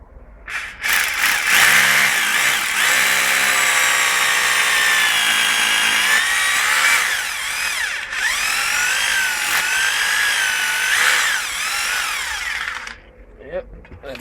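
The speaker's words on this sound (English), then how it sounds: "Once I mark where I need to drill my hole, get my cable out of the way and get my drill." Power drill boring a hole into a garden wall to mount outdoor lights, a loud continuous whine rising in pitch and holding steady for about twelve seconds before cutting off, close to the microphone.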